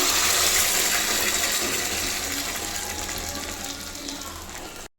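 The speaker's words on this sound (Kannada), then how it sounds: "ನಿಮಗೆ ಎಷ್ಟು ನೀರು ಬೇಕು ಅಷ್ಟು ನೀರನ್ನು ನೀವು ಇದಕ್ಕೆ ಆ್ಯಡ್ ಮಾಡ್ಕೊಳ್ಳಿ." Water pours steadily and loudly into a pot of moong dal rasam with cooked tomato, a close continuous gush that fades slightly before cutting off abruptly.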